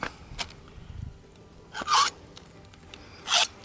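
A butter knife is filed down outdoors to sharpen it, giving two short, harsh rasping strokes over a low steady background hiss.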